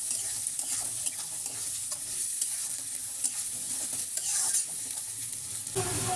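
Onions frying in hot oil for mutton biryani, browning in the pan: a steady, close, dense sizzle runs throughout with scattered crackles and a few scraping stirs, no voices.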